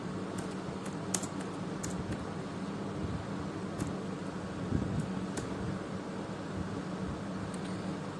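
Steady clicking of fingers typing on a computer keyboard while entering TensorFlow code, close and continuous over a faint background hum.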